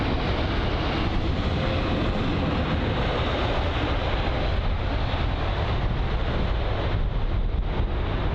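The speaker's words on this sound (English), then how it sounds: "This is the American Airlines Boeing 777-200 arriving from Seattle." An American Airlines Boeing 777-200 arriving at London Heathrow from Seattle, a steady, loud broadband jet roar with wind rumble that holds throughout with no pauses.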